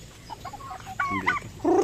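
Rhode Island Red rooster with deep mahogany, nearly black plumage giving a few short, nasal clucks and soft calls, close by and fairly quiet, with a slightly louder throaty burst at the end and no talking.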